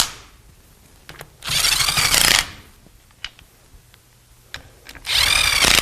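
A power drill drives screws into a manual transmission in two loud, whirring bursts of a second or so each, with small clicks and taps from handling in between.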